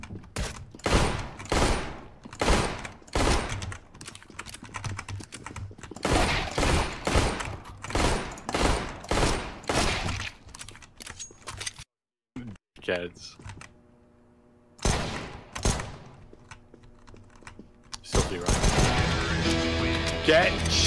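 Rapid gunfire bursts in the first-person shooter CS:GO, loud repeated volleys of sharp shots with brief gaps, a quieter stretch midway, then dense sustained firing near the end.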